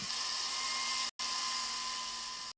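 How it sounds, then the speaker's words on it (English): A steady high-pitched grinding whine of stone being sanded and polished, continuous and loud, cutting out briefly twice. "While they're sanding down and polishing the stone"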